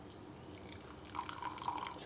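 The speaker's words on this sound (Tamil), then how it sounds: "இதில் கொஞ்சம் பால் ஊற்றிக்க" Milk is poured into boiled, mashed sweet potato being made into baby food, giving a soft, faint liquid trickle and drip that swells slightly toward the end, with no talking.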